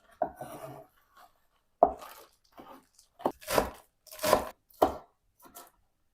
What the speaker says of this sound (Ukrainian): Це все разом поріжу дрібненько.